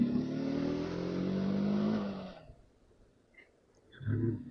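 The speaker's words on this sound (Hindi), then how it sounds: "ये आगे तक है ट्रैफिक, सेक्टर 37 तक बोटेनिकल तक का ट्रैफिक है ये" Road traffic in Noida near Sector 37 and the Botanical Garden area: a vehicle engine rumbles steadily for a couple of seconds, fades into a quiet lull, then another motor swells up near the end.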